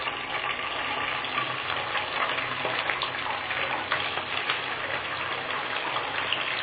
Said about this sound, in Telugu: కాకరకాయలు బాగా ఉప్పు వేసుకొని కడుక్కొని పెట్టుకోవాలి.